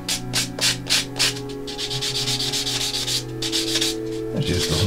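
A small plastic part from a 1/72 Airfix Tiger 1 tank kit is rubbed down by hand, giving several close, rhythmic scraping strokes followed by a longer, steadier rub.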